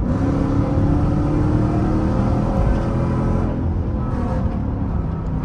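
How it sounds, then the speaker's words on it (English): A Dodge Durango engine at a car wash revs in a steady, loud, close-up roar that holds its level throughout, with no voices over it. "Got a little rev."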